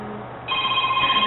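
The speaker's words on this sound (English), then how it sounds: "Is that my phone?" A phone rings close by, an electronic tone rising after a brief tonal hum and continuing steadily for about a second.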